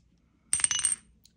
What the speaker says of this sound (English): We're going to roll a dice today.